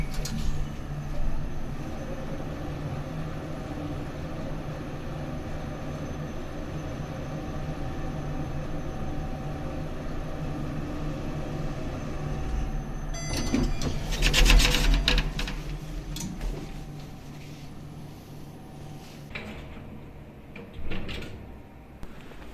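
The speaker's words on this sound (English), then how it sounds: "there's two Schindler Iconic V lifts" A Schindler Iconic V lift rides with a steady low mechanical hum and faint whine, then near the end a burst of clatter and rubbing as it slows, with a few soft knocks after.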